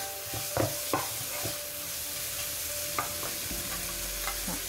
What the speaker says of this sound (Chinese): 我哋又可以抌埋呢啲瓜落去啦，又炒炒佢啦，炒熟啲瓜